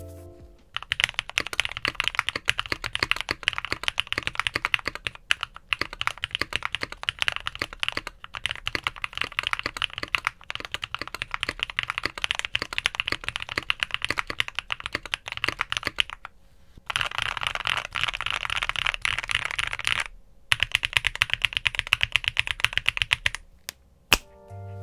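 Fast, continuous typing on a mechanical keyboard with Gateron Cream Soda switches, Novel Keys milkshake PBT keycaps and an FR4 plate, crisp clacky keystrokes close up, with two brief pauses and a final few presses.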